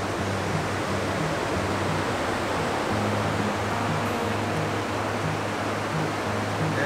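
A river waterfall near a campsite on a remote Arctic watershed river roars as a steady, loud, broadband rush of falling water, continuous and unbroken, with a low rhythmic rumble underneath and no voices.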